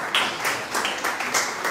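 An audience at an award ceremony for young local achievers in Pomigliano d'Arco applauds in a brief, dense burst of clapping with no voices over it.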